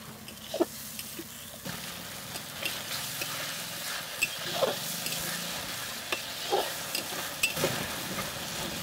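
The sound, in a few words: spice paste with turmeric being fried and stirred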